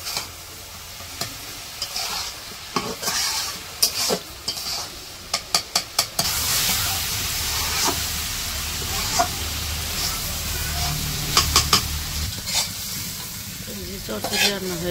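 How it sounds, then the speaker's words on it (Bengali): Cabbage and fish frying in a pan over a village cooking fire, a steady sizzle under repeated bursts of scraping and stirring, the clatter coming in quick runs of strokes, with no talk. "পাতাকপি তো ভাজা ভাজা প্রায় হয়ে গেছে, এখন মাছগুলো মিশিয়ে নিল, মাছগুলো মিশিয়েও আর একটু ভাজবো"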